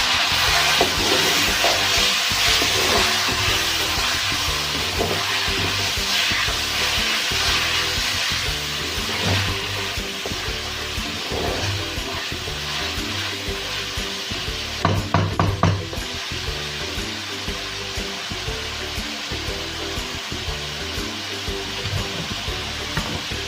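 Chicken pieces sizzle and fry in a pan of lightly browned onions for a chicken masala curry, a steady close hiss broken by scraping and stirring sounds.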